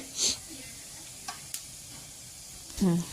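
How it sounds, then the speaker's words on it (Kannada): Mustard and cumin seeds splutter in hot ghee with faint, scattered pops and a soft hiss, and a brief voice is heard at the end. "ಸಾಸಿವೆ ಚಟ ಚಟ ಅಂತ ಸಿಡಿಯುತ್ತೆ."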